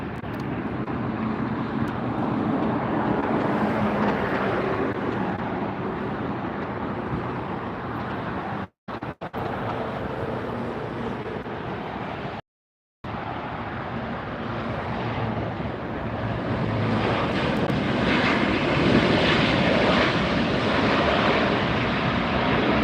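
A Delta Air Lines Boeing 737-900ER arriving from New Orleans lands at LAX with a loud, steady broadband jet roar that fills the whole stretch, broken only by two brief dropouts, with no voices.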